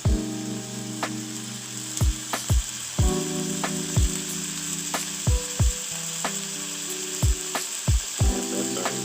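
Salmon fillet pan-searing in a hot pan gives a loud, steady sizzle close up, broken by scattered sharp clicks and knocks.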